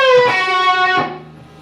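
A short electric guitar blues lick, a few sustained notes with a bend, played alone and ringing out before fading.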